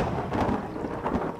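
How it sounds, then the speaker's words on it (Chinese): Stormy weather at sea in the mobile game Yanyu Jianghu, with heavy rain and rumbling thunder. A dense, rolling roar fills the whole stretch, swelling and easing slightly, with no voices. "出海中，狂风暴雨"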